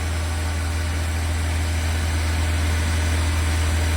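A Chevrolet Equinox engine is held at 2,500 RPM during a tailpipe emissions test, a steady, loud, close mechanical drone with a constant low hum and no variation, with no talking.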